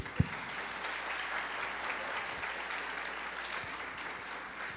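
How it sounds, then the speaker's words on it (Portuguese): Church congregation at an evening worship service applauding, a dense, even wash of many hands clapping at a moderate distance, with one sharper knock near the start. "Aplauda ao Senhor Jesus com alegria."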